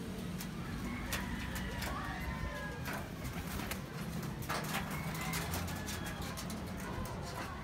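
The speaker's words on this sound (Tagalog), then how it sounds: "Mga kalapati natin, nakalera o." Pigeons coo softly in the background amid rustling and clattering noises, with a faint voice talking at a distance.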